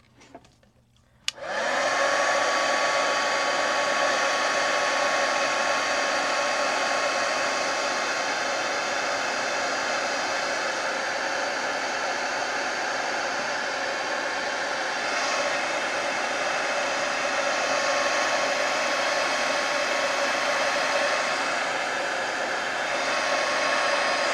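A heat gun switches on and blows hot air in a steady, loud whooshing roar with a faint whine, running continuously up close for over twenty seconds with no talk.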